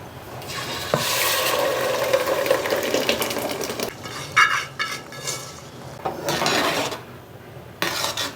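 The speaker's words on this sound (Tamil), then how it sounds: "மொத்தம் இந்த தக்காளியும் இதில் ஊற்றிட்டு இதை சிம்லேயே வச்சு நம்ம வந்து குக் பண்ணலாம்" Ground tomato paste poured into hot oil in a cooking pan, giving a loud, continuous sizzle and bubbling with scraping and clinks of a utensil against the pan, with short breaks midway and a final burst near the end.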